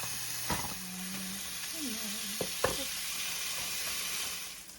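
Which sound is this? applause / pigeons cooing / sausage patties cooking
sausage patties cooking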